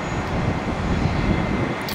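A Gulfstream G550 jet taxis at an airport, giving a steady, broad engine roar and rush that holds at moderate distance with no speech over it.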